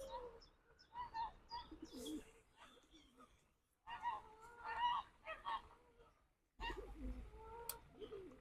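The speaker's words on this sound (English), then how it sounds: "Noisy bloody birds." Pigeons, geese and other park birds call and honk in bursts on a busy morning, fairly close and moderately loud, with quiet gaps between the flurries.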